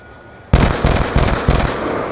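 Video game gunfire bursts in loud and close after a brief quiet moment, a rapid string of shots that pulses for almost two seconds.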